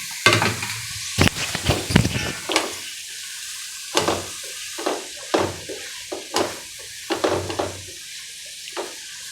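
Grated bottle gourd fries in a pan for milk halwa, heard as a steady soft sizzle broken by a dozen or so scraping stirs of a spatula in uneven bursts, close by.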